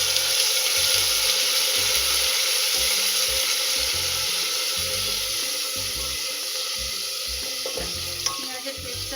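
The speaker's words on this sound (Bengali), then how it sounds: "পেঁয়াজের পেস্টটা দিয়ে আমরা এটা পেঁয়াজটাকেও ভাজা ভাজা করে নেবো" Mutton liver fries with onion paste in a pan, giving a loud, steady sizzle with intermittent stirring scrapes and no talking.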